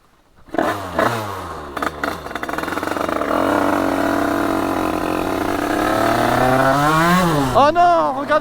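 A Derbi motorbike engine while riding, loud and close, revving up, holding a steady drone, then rising and falling in pitch near the end. Some voice-like sounds mix in.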